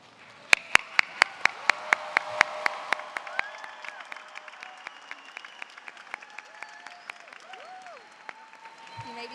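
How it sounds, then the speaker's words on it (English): Graduating high school students and their audience applauding at a graduation ceremony, distinct sharp claps in a steady rhythm over softer crowd clapping in a large hall, tapering off toward the end as the room quiets. "Graduates, please stand and applaud to those who have brought us to where we are today."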